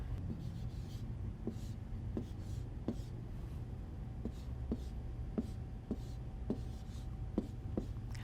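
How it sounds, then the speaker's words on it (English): A pen writing on a SMART board, heard as a faint, steady run of light taps and short strokes recurring roughly every half second over a quiet background hum. "this is where I can now write numbers or math equations"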